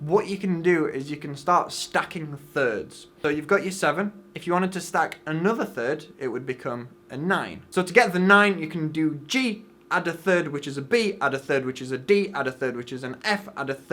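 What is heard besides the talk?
No everyday noise stands out behind the speech.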